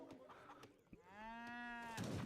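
Cattle moo in an Age of Empires III match, one long drawn-out low call with rich harmonics rising out of quieter game ambience, followed by a burst of noisy clatter at the end.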